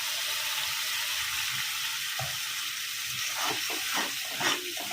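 Ground spinach puree poured into a pan of well-roasted masala, setting off a loud, steady sizzle and frying hiss with a few wet stirring clatters toward the end.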